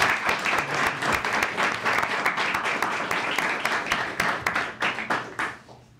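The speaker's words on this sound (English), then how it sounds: "Let's give them a round of applause." Audience applause at a city council meeting, a dense, steady burst of many hands clapping that carries on for several seconds and thins out toward the end.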